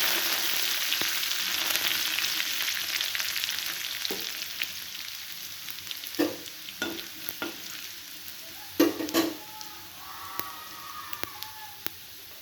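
Mustard seeds, cumin and curry leaves sizzling in hot oil in a pan, a steady frying hiss broken by a few sharp crackles and pops as the leaves hit the oil.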